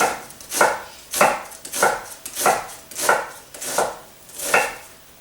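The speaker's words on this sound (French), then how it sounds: "Alors, je vais les couper, les ciseler." An onion being finely chopped with a knife on a board, seven steady, evenly spaced chopping strokes, close and clear with no talking.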